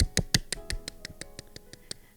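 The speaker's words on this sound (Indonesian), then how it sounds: "Tepuk tangan yang meriah buat Tuhan Yesus" A steady series of hand claps, about a dozen sharp, evenly spaced slaps that fade slightly toward the end, close and without talking.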